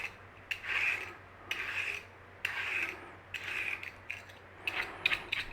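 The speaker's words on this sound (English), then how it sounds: "grab yourself a parsnip and start peeling" Parsnip being peeled in a kitchen, five or six short scraping strokes about a second apart, each a dry rasping swipe of the peeler, close and alone with no talk.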